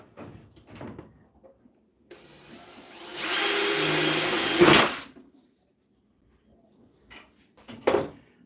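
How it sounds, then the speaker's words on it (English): A power drill whirs steadily for about two seconds at close range, drilling a hole in a fitting for a race car, framed by quiet handling sounds and a few soft knocks before and after. "get our little fitting here and drill a hole."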